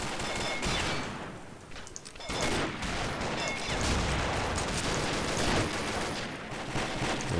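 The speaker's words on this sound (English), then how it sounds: "Toss a frag down there, see if we can get any kills." Gunfire and explosions in the shooter game Combat Arms, with a frag grenade thrown and blowing up amid a dense, loud, continuous battle din of shots and blasts.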